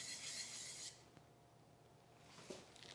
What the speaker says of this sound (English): Set that down on the primary bevel, elevate, spend about 10 seconds on the coarse stone